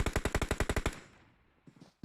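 Automatic gunfire in the video game PUBG Mobile: a rapid burst of about ten loud, evenly spaced shots that stops abruptly, followed by a fading echo and a couple of faint distant thumps.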